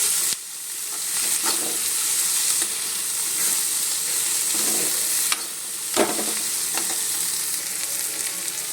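Field beans and chopped tomato stir-fry in a pan for a North Karnataka palya, giving a steady loud sizzle and hiss broken by occasional scrapes of the stirring utensil.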